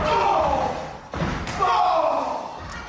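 Hard wrestling strikes slam and thud in the ring at an FWA Academy wrestling show, a sharp broadband impact near the middle followed by another, under a commentator's continuous voice and crowd noise.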